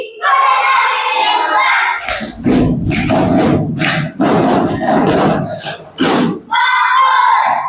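A classroom of children performs a concentration clap routine, with loud rhythmic bursts of group clapping in a patterned sequence, framed by children's chanting voices before and after.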